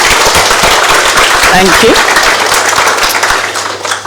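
Loud, dense audience applause at a hospital staff graduation ceremony, steady clapping from a large crowd filling the room, with a brief spoken thanks over it near the middle before the clapping starts to thin at the end.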